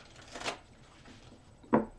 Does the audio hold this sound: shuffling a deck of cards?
yes